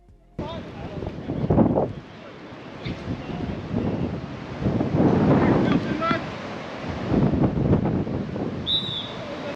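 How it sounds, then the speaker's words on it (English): Strong, gusty wind buffeting the microphone on an outdoor football pitch, a constant broad roar that surges in repeated loud blasts, with voices faintly audible at times. "We were back at our home pitch today in some seriously windy conditions."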